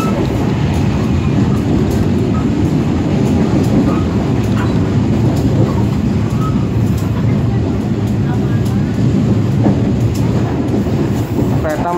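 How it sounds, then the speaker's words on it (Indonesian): A train runs toward Pleret station on the Purwakarta line, its loud continuous rumble and rail noise heard up close from on board, with faint clickety-clack of the wheels throughout. "Kereta melaju terus ke arah stasiun Pleret."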